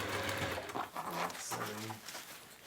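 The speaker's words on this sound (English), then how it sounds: "We are sewing." A domestic sewing machine stitches fabric for a hanging shoe bag, giving a steady close whirring hum that runs almost continuously with a brief dip midway, loud and in the foreground.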